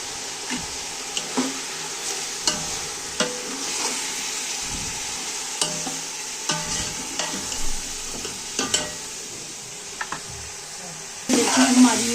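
Beef for nihari cooked in mustard oil sizzles gently with nihari masala, salt, red chili and turmeric, a low steady fry broken by regular spoon knocks and scrapes against the pot, with a louder clatter at the end.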